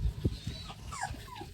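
A puppy whimpers in thin, high rising and falling whines, several short cries close by, mixed with soft thumps and movement noises, with no talk during them.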